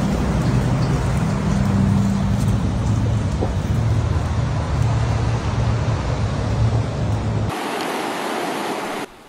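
Heavy, relentless rain pours down during a Bay Area storm in California, a dense steady roar with deep rumble underneath that cuts to a thinner, quieter hiss near the end.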